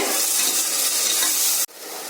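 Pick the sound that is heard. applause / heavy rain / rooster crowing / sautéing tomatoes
sautéing tomatoes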